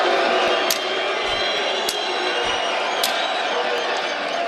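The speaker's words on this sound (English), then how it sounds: "As the crowd whistles its disapproval" A stadium crowd at a tennis match whistling disapproval after a player smashes his racket, a dense continuous roar of whistles and jeers with a few sharp cracks cutting through, loud and sustained throughout.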